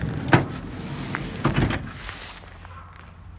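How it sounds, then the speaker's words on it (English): Sliding side door on a 2016 Ford Transit Connect XLT passenger van with a 2.5L engine, unlatching with a couple of sharp clunks and then rolling open with a muffled slide, close by and without talk. "I'm going to open the side door up"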